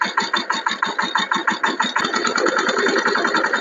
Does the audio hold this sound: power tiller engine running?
yes